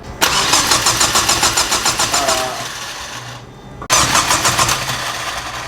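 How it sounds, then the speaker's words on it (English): A Mazdaspeed 3 engine cranks on the starter with its ignition coils unplugged so it never fires, giving a loud rhythmic whirring churn. There are two long bursts of cranking separated by a short pause. "We plugged out the ignition coils and we're about to crank it so we get oil to the turbo."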